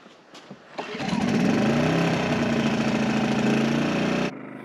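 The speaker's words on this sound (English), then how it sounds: "Okay, then fire up the generator for me." A portable generator being started to power a septic pump tank: a short pull-start sputter, then the engine catches and runs at a loud, steady idle for several seconds before cutting off abruptly.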